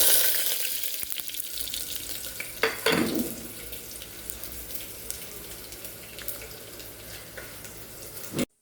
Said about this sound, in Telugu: పప్పు తాలింపు వేస్తున్నానండి